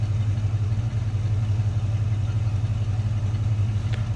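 A Ford 302 V8 engine in a 1972 Ford Mustang Grande idling with a steady, low, throbbing rumble, heard from close by without any talking.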